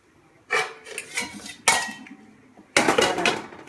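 A metal lid clanks onto a pot of tomato pulav on the stove, sounding in three loud, close metallic clatters with ringing in between.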